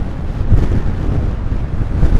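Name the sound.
wind blowing at the coast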